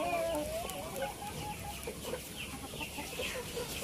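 Indio Gigante chickens, including a five-month-old hen, clucking and calling close by in a coop, with steady farmyard background noise.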